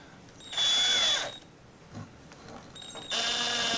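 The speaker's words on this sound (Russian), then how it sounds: "Сейчас закручиваем его в аккумуляторный шуруповерт" A cordless drill-driver whines at high speed in two bursts while a hole is bored during a repair, with a faint knock between them and a quiet room around it.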